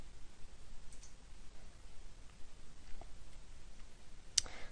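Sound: mouse click saving a setting

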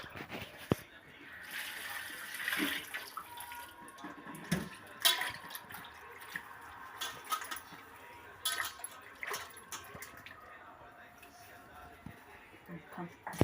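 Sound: vegetables being washed in salted water

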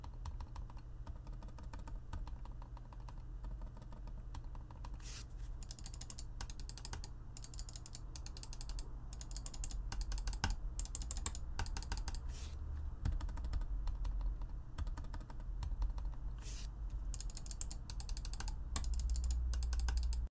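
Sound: computer mouse button clicks

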